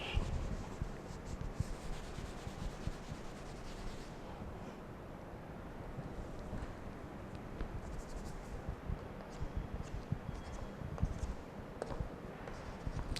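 Continuous scratchy writing on a board during a physics lesson on straight-line motion, steady rubbing strokes close to the microphone with a faint background hiss, no talking.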